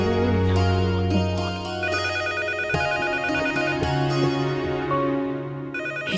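A telephone ringtone plays loud and close in a Hindi television drama scene, a layered electronic melody of repeating tonal notes lasting several seconds with no one speaking.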